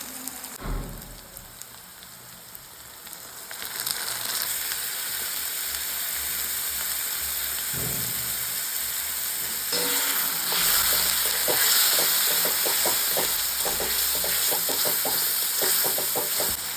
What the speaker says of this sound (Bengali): এইরকম টমেটো পেঁয়াজ ভাজা চলছে